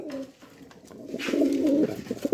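Pigeons on a pigeon farm give a brief, low, throaty coo up close, heard alone without talk.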